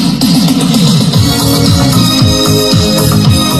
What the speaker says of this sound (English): I reversed the audio and you won't believe how it sounds now.